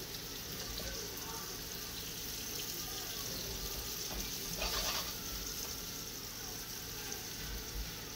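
Burgers frying in a pan, a steady sizzle with crackling and faint scraping underneath, continuous and moderately close.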